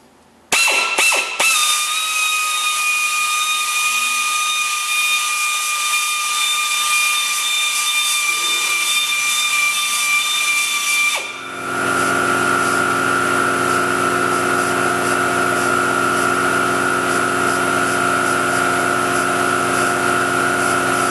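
A rotary polisher spins a pad across automotive clear coat while fisheyes are being removed, producing a loud, steady whine and hiss that starts abruptly, then shifts to a lower, rougher tone partway through, with no talking.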